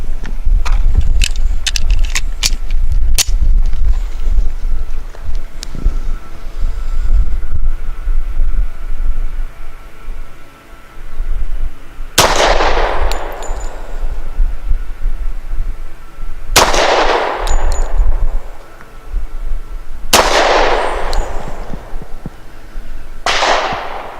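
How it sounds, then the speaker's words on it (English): Pistol shots from a Rock Island 1911 at an outdoor range at 7 yards, several loud sharp reports with long ringing tails spaced a few seconds apart, preceded by wind and handling noise. "so 5 shots from 7 yards"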